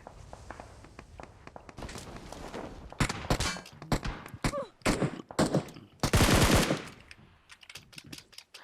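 Gunfire in PUBG Mobile on the new Erangel map, with loud rapid bursts and single shots mixed with footsteps, the volleys growing denser and louder toward the end with no talk over them.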